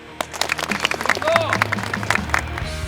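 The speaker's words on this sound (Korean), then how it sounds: "박수!" Special forces soldiers at a night-march training event clap together in a lively burst of applause, mixed with shouts and voices from the group, close and moderately loud.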